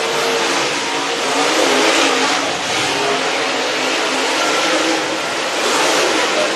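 Race cars circling the track at Sugar Creek Raceway during a hot lap session, a dense continuous roar of engines at speed, loud and steady throughout with slight swells as cars pass.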